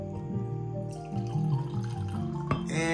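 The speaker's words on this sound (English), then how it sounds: "I'm gonna pour myself a glass of wine here" Wine glugs from a bottle into a glass, a near, fairly quiet stream of liquid with shifting gurgles that rise in pitch as the glass fills, ending in a brief clink and splash.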